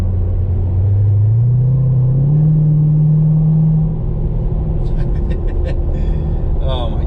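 A Chevrolet Corvette Grand Sport C7 exhaust in track mode rumbles loudly and revs up in a rising, deep drone before easing back to a throaty idle, with brief speech near the end.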